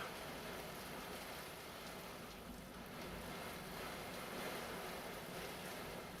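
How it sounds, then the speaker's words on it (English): Torrential rain pours down in a steady, dense hiss with no break, heard fairly faintly. "are we getting a torrential downpour here?"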